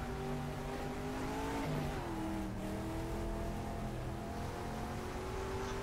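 A Ford GT40 race car engine in the GTR 2 racing game, droning loudly and steadily with a brief pitch drop as it downshifts, then climbing again under constant engine roar.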